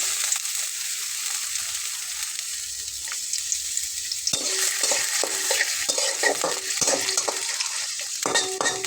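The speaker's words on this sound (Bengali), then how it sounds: "এখন দিয়ে নেব পেঁয়াজ কুচিটা।" Chopped onion dropped into hot white cooking oil starts a bright crackling sizzle. A spatula scrapes and taps against the pan in quick repeated strokes, and the frying grows louder and busier partway through.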